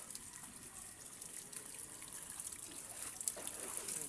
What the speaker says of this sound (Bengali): ও জলের ধারা